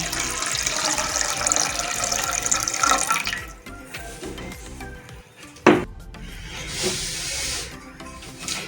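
Water pours steadily into a pot for plum chutney with a rushing, hissing splash for several seconds, then stops, followed by a clunk and softer handling sounds.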